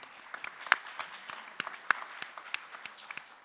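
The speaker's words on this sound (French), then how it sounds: "On peut vous applaudir." A small audience at a round-table session applauds a doctor, sparse, individual claps with distinct sharp hits rather than a dense roar, fairly quiet and thinning out.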